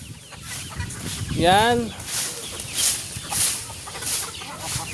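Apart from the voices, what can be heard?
chickens clucking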